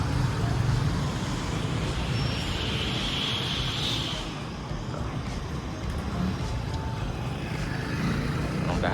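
Highway traffic in Nabunturan, Philippines, a continuous broad roadway roar from passing vehicles, fairly loud and steady with a slight dip midway, no voices.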